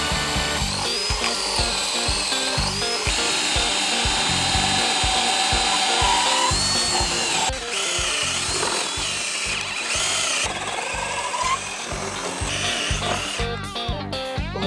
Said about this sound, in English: since we need to drill a really long hole, I got this really long paddle bit and this extender